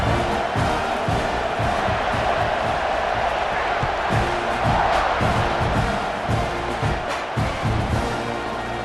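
A large college football stadium crowd in a video game roars steadily throughout, a dense wall of cheering and shouting that swells slightly midway without letting up.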